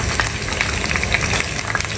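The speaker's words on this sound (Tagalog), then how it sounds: "papritohin natin yung mga dried fish or bulad" Dried fish (bulad) frying in hot oil in a pan, a steady close sizzle with small crackles and pops throughout, no voices.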